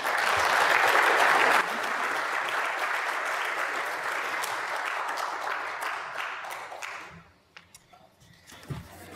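After a church talk on dinosaurs and the Bible, a hall audience breaks into sustained applause, loud and dense at first, then gradually thinning into scattered claps as a voice begins to speak.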